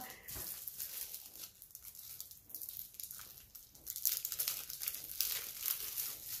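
Plastic packaging of a sticker album being opened up close, a continuous crinkling and crumpling that grows busier and brighter partway through, with no one speaking.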